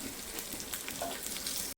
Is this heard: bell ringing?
no